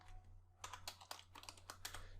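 Rapid bursts of computer keyboard keys tapped while writing code, an irregular run of crisp clicks close up over a steady low electrical hum.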